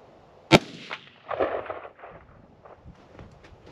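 A single sharp 7.62 rifle shot cracks out, followed by rolling echoes bouncing off canyon walls, then faint rustles and small knocks nearby.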